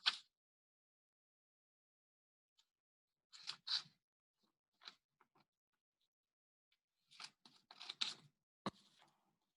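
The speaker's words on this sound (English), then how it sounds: "on those dotted lines, you're going to cut just the dotted lines" Scissors cut along the dotted lines of a paper pinwheel pattern, giving faint, sparse snips and crisp paper crackles in short clusters against near silence.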